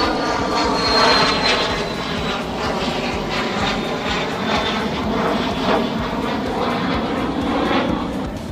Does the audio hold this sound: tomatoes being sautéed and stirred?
no